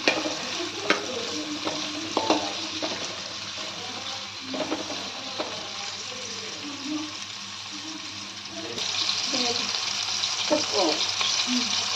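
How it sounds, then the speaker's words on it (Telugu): Tomatoes fry in oil in a pan, sizzling steadily with scraping stirs and occasional clatters, the frying growing louder toward the end; no one speaks. "టమాటాలు ఎర్రగా వేపుడు చేయాలి"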